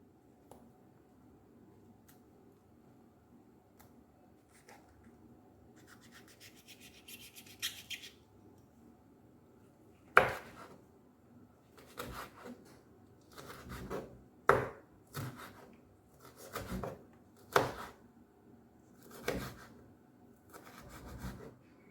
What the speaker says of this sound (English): Time to slice the peppers.